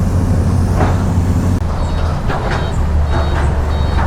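Reversing beeps ring out in a regular series from a truck unloading limestone at a roadside work site, loud and close over a heavy diesel engine rumble.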